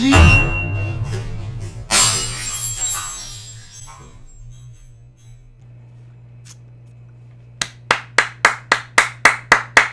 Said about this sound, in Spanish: ¡Aplausos! ¡Aplausos para el imbécil!